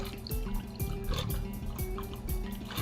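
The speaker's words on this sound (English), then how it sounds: "now you're gonna strain it into there with the strainer" A shaken cocktail is poured through a bar strainer into a glass, giving a soft liquid trickle with intermittent drips and splashes, quiet and close.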